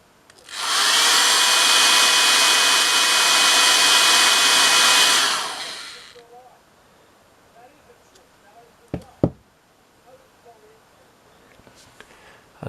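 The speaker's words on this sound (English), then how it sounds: "let's see what happens when we heat it up with a hairdryer" A hair dryer blows hot air onto a Vestel 17IPS12 TV circuit board, a loud steady whoosh for about five seconds that cuts off, followed by a few faint clicks and knocks.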